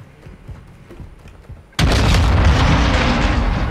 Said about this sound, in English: Stand clear of the blast area.